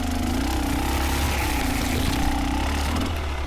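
A KTM motorcycle engine with about 750 hours of use runs at a steady, close, droning pitch throughout, with no distinct rise or surge.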